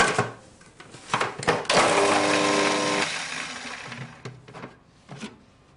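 A food processor blitzes a clove of garlic and roughly snipped spring onions, a loud whirring burst lasting a second or so between clattering handling noises, close by and alone.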